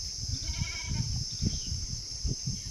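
Goats bleat repeatedly amid a noisy crowd at a livestock market auction, several short cries standing out over a busy market din with a steady high background hum.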